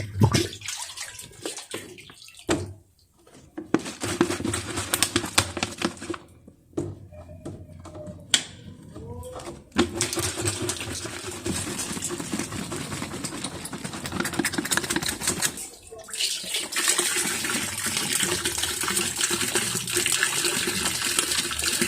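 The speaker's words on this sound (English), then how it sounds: "So you keep washing." Water splashes and sloshes continuously in a tin while organic fertilizer is washed and mixed, with a few short pauses early on and then a steady, close wash of watery noise.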